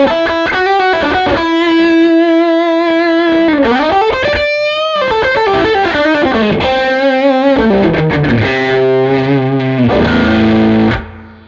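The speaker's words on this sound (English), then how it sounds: "And this is with the reverb." Red Special electric guitar with reverb added, a loud distorted melodic lead with held notes, slides and fast runs, ringing tails blurring the note changes before the phrase fades out.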